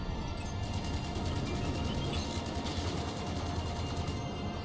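Rapid, continuous weapon fire from a space fighter in the Strike Suit Infinity game, a dense loud rattle of repeated shots that runs without a break for several seconds, with no talk over it.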